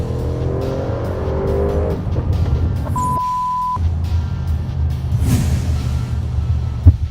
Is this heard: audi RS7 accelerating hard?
yes